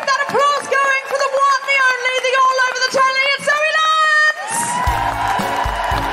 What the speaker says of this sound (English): And now keep that applause going.